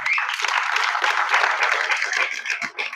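An audience breaks into applause, a thick, continuous wash of many hands clapping at moderate volume that tapers slightly near the end.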